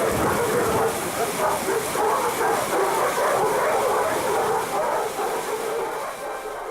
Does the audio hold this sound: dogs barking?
yes